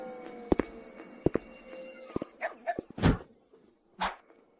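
Dog barking at and biting a thief, a few sharp, close barks and yips between clicks and thumps, short bursts with brief gaps, no talking.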